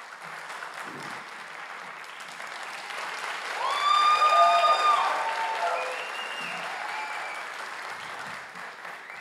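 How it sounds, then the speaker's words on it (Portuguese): A crowd applauds at a stage hypnosis show, steady clapping that swells in the middle with cheers and whoops rising above it, then settles back down. "uma salva de palmas para os nossos astros!"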